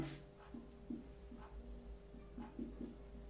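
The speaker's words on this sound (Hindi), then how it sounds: "तो यहां लिखते हैं हम" Chalk or marker writing on a classroom board during a lesson, a series of short, quiet scratchy strokes in an irregular rhythm against a faint room hum.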